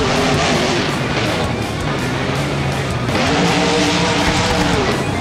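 Monster truck in BeamNG Drive crashing over a stack of crush cars with a flat tire, a loud engine roar with tire skids and scraping impacts, shifting pitch as it revs and lurches across the course.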